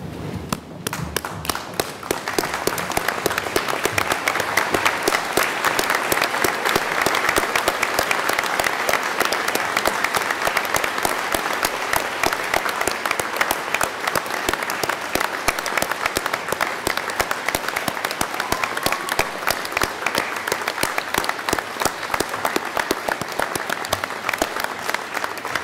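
Graduation ceremony audience standing to applaud the graduates, loud sustained clapping from a large crowd that holds steady throughout.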